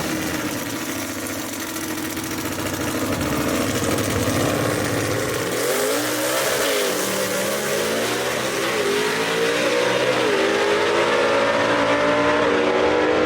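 Gasser drag race cars with Busch Race engines launching down an eighth-mile drag strip, a loud sustained engine roar with rising revs and a shifting whine as the cars pull away, continuous throughout with no talk.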